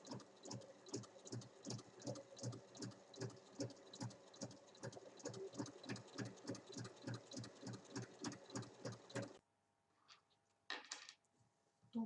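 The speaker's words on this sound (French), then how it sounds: "je vais venir piquer ici sur toute la hauteur à 1 cm" A sewing machine stitches fabric for a cloth vanity case, a fast even run of needle strokes for about nine seconds, then stopping with a few faint handling clicks.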